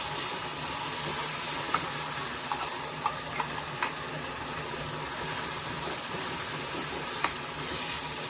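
Spice paste sizzling as it is sautéed in a pan for a dum aloo gravy: a steady frying hiss with occasional stirring clicks and scrapes, close and continuous, with no talk.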